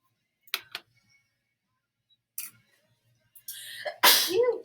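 Several short sneezes, two quick ones, a pause, then a stronger burst building to a loud, full sneeze at the end, otherwise quiet.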